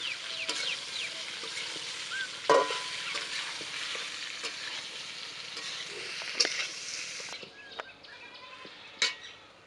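Boiled potatoes frying in a pan give off a low, steady sizzle, broken by occasional sharp clinks and scrapes of stirring; faint chicken clucks in the background.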